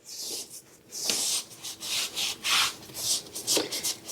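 A soapy rag rubbed along baseboards, giving close, repeated swishing strokes in an uneven rhythm with short pauses between wipes.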